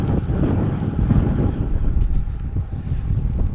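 Strong wind buffets the microphone while riding a gravel bike at about 30 km/h on a long road ride with a three-quarter tailwind, producing a continuous, gusting low roar close to the mic.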